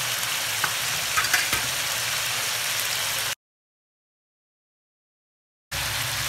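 Garlic and ginger frying in oil for chicken karahi, a steady close sizzle with soft stirring, cut by a stretch of silence before the sizzle returns.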